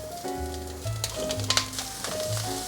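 White beech mushrooms hit hot oil in a pan with carrots being stir-fried, giving a steady close sizzle with a few brief crackles. Faint sustained tones run underneath.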